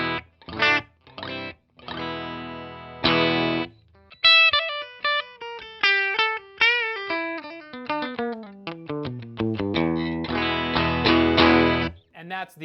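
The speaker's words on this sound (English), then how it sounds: "So this is what this guitar sounds like." A 1980s Peavey electric guitar played through a Peavey amp's clean channel: a run of single notes and ringing chords, with short pauses between phrases, close and fairly loud.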